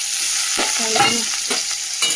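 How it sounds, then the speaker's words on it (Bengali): Potatoes and okra fry in a small wok-style pan with a steady sizzle, broken by a few scraping stirs of a spatula, heard close up with no talking. "এটা তো ভেন্ডি আলুটা ভাজা।"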